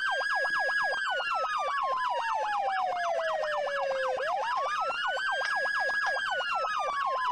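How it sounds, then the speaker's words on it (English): A police car siren in a video game roleplay wails loudly and continuously, a rapid yelping warble layered over a slower rising and falling tone, with no talk. "Can somebody shut off my sirens?"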